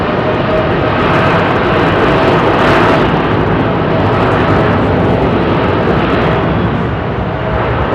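A Delta Airbus A330 taxis out at London Heathrow, its jet engines giving a loud, steady roar that swells slightly midway and stays constant to the end.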